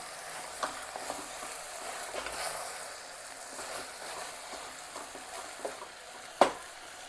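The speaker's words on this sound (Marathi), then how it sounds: "हे फ्लावर सर्व असं थोडं थोडंच परतून घ्यायचं आहे" Cauliflower and peas are being sautéed in a pan for pav bhaji, giving a soft, steady sizzle with light stirring. Near the end there is one sharp clack of a spoon against the pan.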